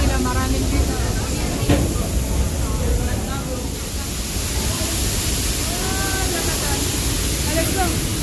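Niagara Falls in Ontario roars as a steady, dense wash of broadband water noise heard from inside a tunnel behind the falls, loud and continuous throughout with faint voices mixed in.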